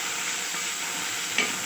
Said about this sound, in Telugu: చూడండి వేగుతుంది.